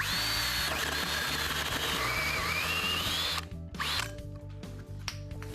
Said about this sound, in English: now what we're going to do is drill straight through the plywood and through the piece, enlarging the hole